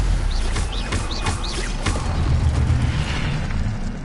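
A Stupefy spell cast in Hogwarts Legacy, heard as a few quick magical bursts with rising whooshing chirps over a loud, dense game backdrop of rumble and effects, no speech.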